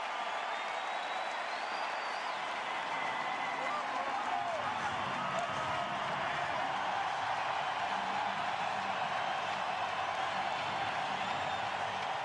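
Crowd at a 2011 World Series Game Seven, Rangers at Cardinals, in a baseball stadium, giving a pitcher a sustained roar and applause as he leaves the game, a dense continuous wash of cheering.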